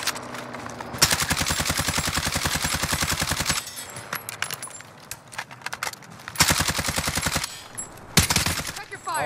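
Rapid automatic fire from an AMAX assault rifle in Call of Duty Warzone: two long, close, loud bursts with shorter spurts between them.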